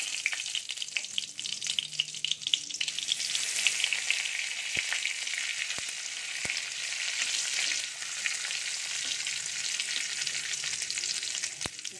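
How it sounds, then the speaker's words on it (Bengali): Whole cumin seeds, a dried red chili and two bay leaves frying in hot oil for a Bengali cauliflower curry, a steady, close, bright sizzle that holds throughout with a few faint clicks of utensils. "তার জন্য আমি ফোড়নে দিয়ে দেব এই যে গোটা জিরে, একটা শুকনো লঙ্কা, আর দুটো তেজপাতা।"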